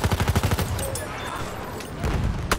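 Rapid automatic gunfire in the video game Battlefield 1, a fast burst of close shots at the start, a brief lull, then another quick rattling burst near the end.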